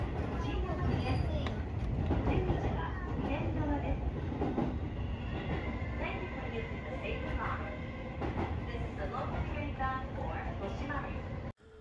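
A Seibu Ikebukuro Line train pulls out of Ikebukuro station with a steady low rumble and rising wheel and motor tones, heard from on board, with muffled voices in the carriage.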